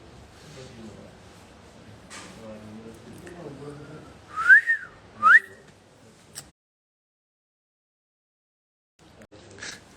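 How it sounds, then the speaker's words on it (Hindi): A person whistles two short, sharp rising notes in quick succession after some quiet talk, loud and close, then near silence follows. "तो तू लोग क्यों मार रही है सीटी?"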